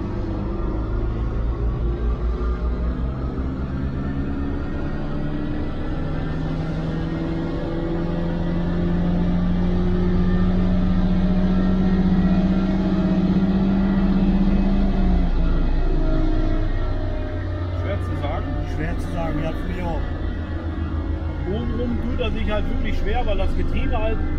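A vintage Mercedes-Benz engine runs at full throttle on a dynamometer, a loud, sustained droning roar whose pitch climbs steadily, peaks, then eases back, with faint voices surfacing near the end.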